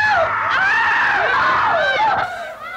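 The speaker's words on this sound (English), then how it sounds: "The fuck is with all the screaming?" A loud, sustained high-pitched scream from a horror film wavers and bends in pitch for over two seconds before cutting off, heard alone.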